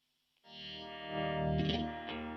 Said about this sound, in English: cut that back to there to give you the classic Univibe sound